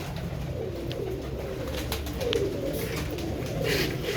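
Teddy-type pet pigeons cooing steadily in a low, continuous murmur close by, with a soft background hiss and no speech.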